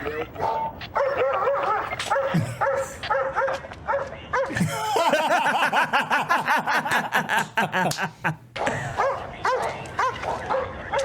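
A dog barks and yips in a scene from the crime drama The Wire, Season 1 Episode 6, with repeated sharp barks under steady overlapping talk.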